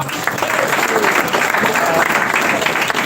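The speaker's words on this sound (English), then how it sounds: "Applause to Spanner's team" Applause from an audience at a 2023 distributors' training event, dense steady clapping that holds for the whole moment with no pause.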